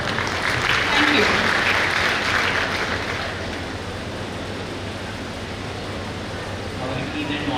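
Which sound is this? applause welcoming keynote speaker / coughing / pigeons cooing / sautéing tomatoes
applause welcoming keynote speaker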